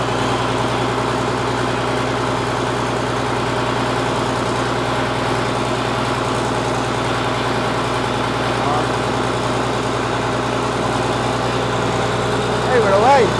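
Engine-swapped Ford 8700 tractor rumbling steadily at low revs as it drives out of a shed, a constant deep idle-like drone close by with little variation.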